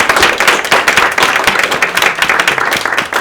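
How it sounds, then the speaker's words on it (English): Close, loud clapping from a small audience at a school board meeting, individual claps distinct in a brisk, uneven rhythm with no talk. "One final round of applause."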